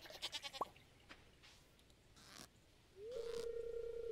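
Quiet game audio from Stardew Valley brings a short animal call among soft chimes and clicks, then a sustained tonal bleat-like cow sound toward the end.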